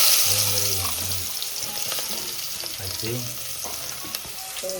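Onions fry with cumin and coriander in a hot pan, making a continuous close sizzle with light stirring, while someone talks over it throughout.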